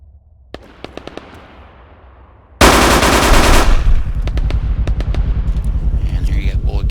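A DP machine gun fires in the IFA3 mod of a video game: after a few faint clicks, a sudden loud sustained burst of rapid automatic fire erupts, then settles into dense ongoing gunfire and rumble.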